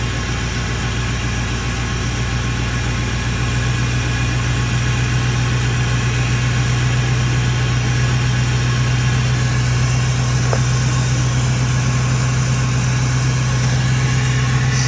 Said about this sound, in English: You can already hear the turbo.